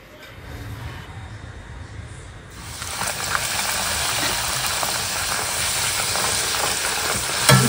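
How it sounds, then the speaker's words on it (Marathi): Bhatura dough hits hot frying oil and sizzles loudly and continuously up close, after a quieter opening, as festive Holi food is cooked. "तर अजून आता एक तळून घेऊ."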